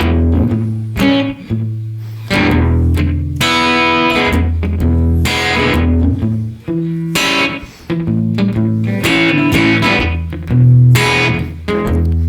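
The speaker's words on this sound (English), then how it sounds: "So that requires using the lower bass strings, kind of like a kick drum, and the treble strings, kind of like a snare or hi-hats" Blues guitar rhythm with low bass strings thumping like a kick drum and treble strings snapping like a snare or hi-hats, played as a steady loud groove alone.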